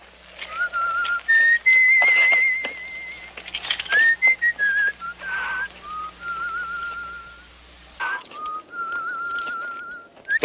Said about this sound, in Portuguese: Pare com esse assobio.